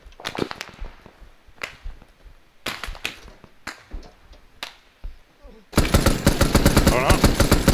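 Video game gunfire with sharp single and burst shots cracking loudly in uneven clusters, then a sustained rapid automatic volley near the end, with players chatting underneath.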